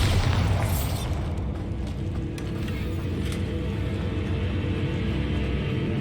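Confringo and Bombarda spell blasts in the video game Hogwarts Legacy: a sharp burst opens into a loud, deep rumbling boom that sustains and rolls on throughout.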